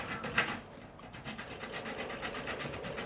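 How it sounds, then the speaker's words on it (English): A safe-edge file rasping over the frets of a 2005 Gibson Les Paul during a refret, quick steady back-and-forth strokes, close and moderately loud, with one sharper metallic tick near the start. "So even though I've got the safe edge of the file there, and I can be filing away"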